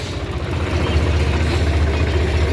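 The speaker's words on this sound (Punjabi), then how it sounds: "ਮਸ਼ੀਨ ਚੱਲ ਰਹੀ ਹੈ ਆਪਣੀ ਭਰਾਈ ਕਰ ਰਹੀ ਹੈ" A tractor-type earth-filling machine runs steadily during soil-filling work on a cold morning, its low engine idle rumbling close and constant without a break.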